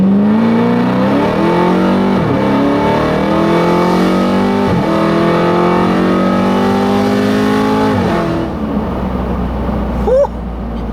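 A 1200 BHP Dodge Charger Hellcat SRT accelerating hard, its engine revving up loud and close through several rising gears with brief dips at each shift, then easing off near the end.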